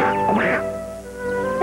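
A cartoon duck gives a loud, raspy run of quacks that fills the short moment, with no talking over it.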